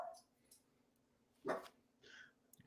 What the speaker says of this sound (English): the dog started barking at us